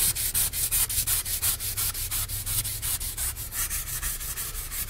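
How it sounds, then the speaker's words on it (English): Rhythmic wet sanding strokes of 600 grit sandpaper over a tub surface during a tub and shower repair, a steady back-and-forth rasp repeating about four times a second, close and loud with no talking. "I use some water. It helps minimize the cutting, and using the 600 to remove the real fine scratches."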